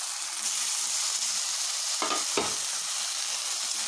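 Chopped potatoes fry in hot oil for aloo palak, giving a close, steady sizzle and hiss throughout, broken by a couple of brief stirring scrapes, with no talking.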